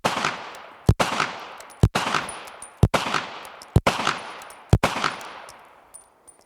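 Rapid pistol fire during a shooting drill on a range, six sharp, loud shots at a steady pace of just under one per second, each followed by a short echoing decay, with no talking.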